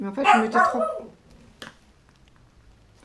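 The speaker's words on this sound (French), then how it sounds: "Désolée pour le petit chien encore." A small dog barks in a couple of quick, loud yaps near the start, with a faint yip after, while someone talks in French over the first part.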